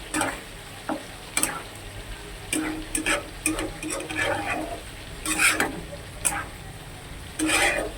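Mini soya chunks cook in a pan with a soft sizzle under repeated scraping and clacking as a spoon stirs them, close and irregular.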